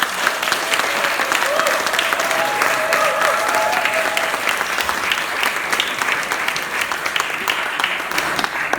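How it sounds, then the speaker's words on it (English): Loud, sustained audience applause at a book launch greets the author, dense and continuous throughout, with some cheering or voices mixed into the crowd. "Let's give a big round of applause to Hidayah Amin."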